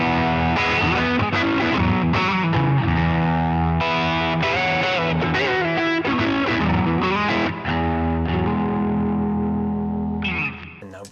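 An electric guitar played through an Analogman King of Tone overdrive pedal, distorted chords and riffs ringing out loud and sustained for about ten seconds before the last chord is cut off, with no voice over it.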